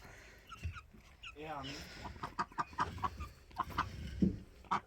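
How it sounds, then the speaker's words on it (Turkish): Growing chicks cluck and peep in a rural yard, short repeated calls close by, mixed with someone talking and other farm sounds. "Şu civcivler yazın çıkarttıklarım büyüyorlar artık."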